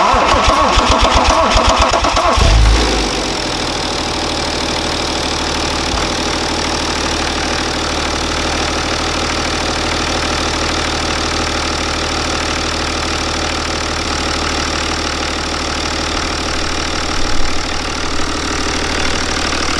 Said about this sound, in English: Now we're going to try to start up the car.